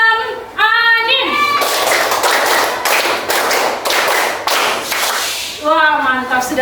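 A class claps along in a rhythmic clapping game led by a teacher, giving loud, fast bursts of hand claps between sung voices at the start and end.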